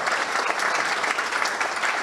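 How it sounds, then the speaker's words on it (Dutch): An audience at an introductory talk breaks into sustained applause, a dense, even wash of many hands clapping together without pause. "Ik wil een applaus voor ze voor het feit dat ze daarvoor open stonden."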